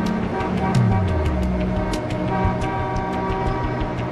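Dense commuter traffic gridlock with car horns honking over a steady low rumble of idling engines, several short horn blasts scattered through the scene, fairly loud and close.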